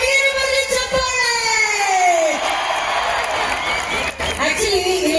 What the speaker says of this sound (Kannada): ಅದಕ್ಕೆ ನಿಮಗೆ ಬರಲಿ ಚಪ್ಪಾಳೆ